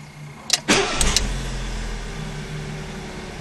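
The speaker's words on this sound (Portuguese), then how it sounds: "Mas vamos ligar assim o motor, que é o que mais os queridos estão interessados em conhecer. Eu vou ligar o motor aqui." A 2013 Fiat Palio Fire Economy 1.0 Flex four-door cranks with a couple of sharp starter clicks, then the engine catches and settles into a steady low idle, close and clear with no talking.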